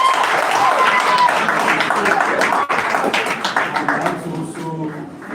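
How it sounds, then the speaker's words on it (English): An audience at a University of Jos student association event claps for the president in a brief burst of applause, fairly loud and dense, thinning out toward the end as a voice begins over it. "Please clap for the president"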